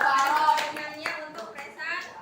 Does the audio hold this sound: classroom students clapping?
yes